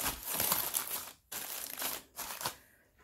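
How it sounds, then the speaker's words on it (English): Aluminum foil crinkles and crumples close up as a chicken rubbed with olive oil is wrapped tightly, coming in dense rustling bursts broken by two brief pauses before fading out. "I wrapped it up real tight in aluminum foil like this."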